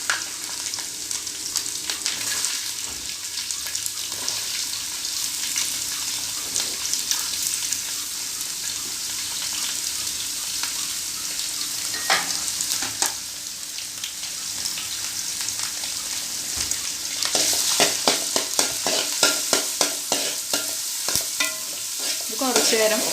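Ginger and garlic sauté in a pan for prawn pickle, giving a continuous close sizzle broken by frequent scraping stirs that grow busier toward the end.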